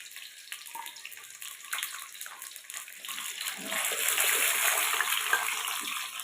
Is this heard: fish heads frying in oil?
yes